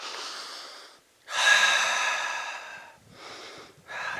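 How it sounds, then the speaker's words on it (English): A person breathes at an off-grid cabin: a soft exhale, a short pause, then a louder, longer breath and two quieter follow-ups, close and alone. "I'm breathing."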